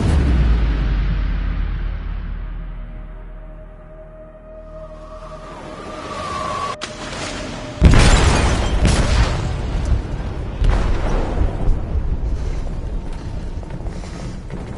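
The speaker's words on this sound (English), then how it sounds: "They detonated an explosive in the hold." An explosive detonates in a ship's hold in Detroit: Become Human, a sudden loud boom that cuts through a low rumble and a fading tone, followed by roaring, crackling debris and continuing rumble.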